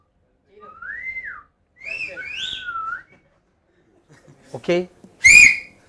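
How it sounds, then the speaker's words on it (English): Several people take turns whistling as loud as they can in a group setting: a few sustained whistles, then short sharp blasts growing louder toward the end, with a brief spoken word between them. "Who can whistle loudest?"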